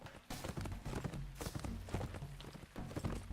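Steady clip-clop of horse hooves trotting nearby in the video game Lord of the Rings Online, rhythmic and continuous, with a busy game-like background.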